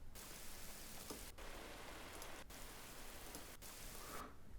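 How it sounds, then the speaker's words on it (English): Recorded rain sample loaded into a sampler: a steady hiss of rain on a surface, evenly dense and continuous, briefly cut to silence at a few regular points as the loop restarts. "and in there I've got Rain."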